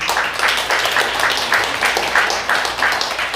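A church congregation on its feet gives a round of applause during a Sunday service, the clapping steady and mid-distance with a faint rhythmic pulse throughout.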